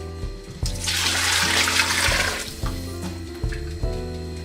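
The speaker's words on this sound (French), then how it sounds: "on met dans le chaudron tout le bouillon qui a passé à la passoire" Strained broth pours from a colander into a pot for a lobster pho soup, a steady splashing gush lasting a few seconds, then fading into intermittent thuds and clatter of kitchen handling.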